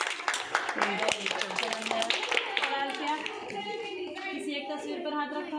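A group of children in a first-grade classroom clap their hands in quick, uneven bursts, loud and close, while a teacher talks over the clapping.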